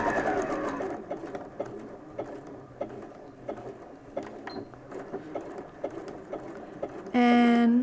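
A sewing machine makes short bursts of stitching while tacking a homemade medical isolation gown, with soft clicks and taps throughout and a louder whirring run near the end.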